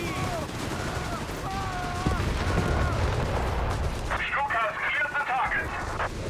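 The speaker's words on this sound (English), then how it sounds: "suppressive fire with the machine gun there" Machine guns and mixed battlefield gunfire clatter in bursts through a Company of Heroes 3 match, with distant explosions beneath and a voice talking over the fighting throughout.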